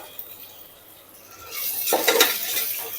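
Large chunks of unpeeled potato, cut from two medium potatoes, sautéing in a pan, starting quiet and then breaking into a stronger sizzle with stirring scrapes and utensil clinks over the last half.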